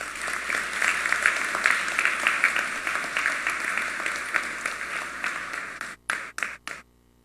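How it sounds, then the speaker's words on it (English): Audience applause at a college graduation ceremony fills the hall with steady, dense clapping that thins out and ends in a few scattered final claps. "Let us give her a round of applause."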